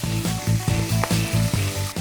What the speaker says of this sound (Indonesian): Ikan pun saya goreng hingga benar-benar kering.